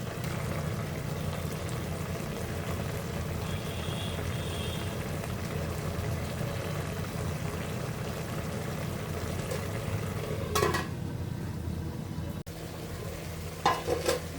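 Spinach and small fish curry reduces in a pan over the heat in a village-style Bengali kitchen, producing a continuous low bubbling sizzle. A couple of brief clatters come near the end, with no talking.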